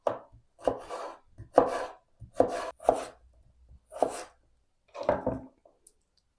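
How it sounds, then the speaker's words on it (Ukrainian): Knife cutting potatoes into thin strips on a board: about eight distinct chopping strokes, each a short burst of slicing and a thud, spaced roughly evenly with brief quiet gaps, close and clear with no voices. "Поки капуста тушиться, підготую картоплю. Її потрібно нарізати тоненькими смужками."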